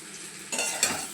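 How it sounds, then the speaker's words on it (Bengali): Mango pieces are stir-fried in oil tempered with five-spice and a dried red chilli for a sweet pickle, a short burst of sizzling and spatula scraping close up. "তারপরে ওটা দিয়ে আমটা একটু কষিয়ে নিচ্ছি।"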